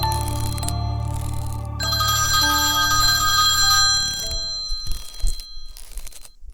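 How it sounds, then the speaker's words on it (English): A telephone rings with a loud electronic tone, two bursts separated by a short pause, followed by brief rustling and tapping noises. "The phone rang again."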